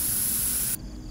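A spray extinguisher or water spray puts out a fire in the horror game Fears to Fathom: Ironbark Lookout, a loud, steady hiss that runs alone for most of a second, then cuts off abruptly.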